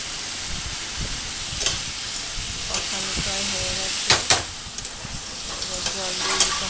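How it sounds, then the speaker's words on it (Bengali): Spice paste sizzles steadily as it is sautéed in a pan for a Bengali-style fish curry, with clanks of a stirring spoon against the pot and a few faint kitchen clatters throughout. "এই যে মশলাটা কষানো হচ্ছে"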